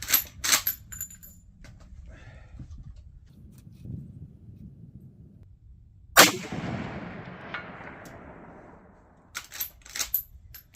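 A Marlin 336 30-30 rifle with peep sights fired at a steel target: one sharp, loud shot with a long fading tail, set among quieter handling clicks and knocks before and after.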